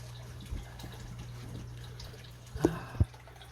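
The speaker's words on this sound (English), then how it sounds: "so the water's now running through all these. It's cascading off there" Water cascading through a freshwater aquarium sump filter, a soft continuous trickle under a low steady hum, with a few sharper drips and splashes near the end.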